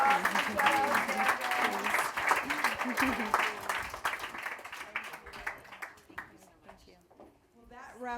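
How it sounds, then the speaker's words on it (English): An audience at a panel event claps in a loud round of applause that gradually thins and fades out, with voices talking over it. "Please can we give another round of applause to Michelle?"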